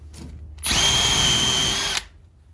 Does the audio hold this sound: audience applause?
no